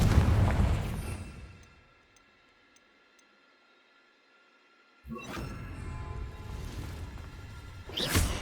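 A Confringo spell in Hogwarts Legacy detonates with a loud burst that fades into a long, near-silent tail with faint ticks, then rumbling blasts return and a final sharp crack ends the sequence.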